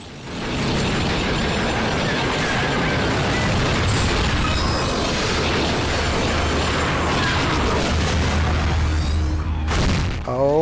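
Missile explosions in Lego Star Wars: The Force Awakens make a dense, sustained roar of blasts and rumbling debris that fills about ten seconds at high loudness, with metallic clatter and a sharp burst near the end.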